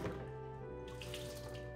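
Tap water runs in a kitchen sink to rinse peeled water chestnuts, a faint, steady stream with a soft thunk partway through.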